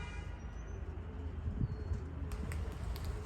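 Racing pigeons arrive during an old-bird race, with soft cooing and faint chirps over low outdoor rumble, and a few light wing flaps near the end.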